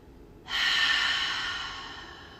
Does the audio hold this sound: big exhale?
yes